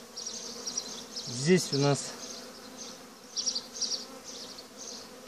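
Honeybees buzz steadily around an open hive on a fine spring day during a full brood inspection, foragers bringing in blue snowdrop pollen; the drone runs throughout, with someone speaking briefly in the middle.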